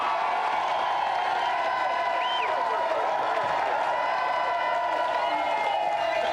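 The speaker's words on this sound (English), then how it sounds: "Give them a round of applause, Michael and Macaulay." A game show studio audience applauds and cheers in a steady, continuous wash of clapping with a few whoops.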